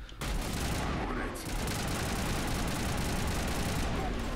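Assault rifle fire in the video game Mass Effect Legendary Edition, a dense sustained burst of rapid shots after a brief quiet start, loud and continuous with a short dip partway through.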